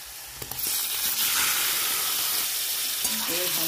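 Chicken marinated in yogurt, salt and garlic hitting a pan of lightly fried onions, a loud bright sizzle that swells and holds steady, close up with no talk.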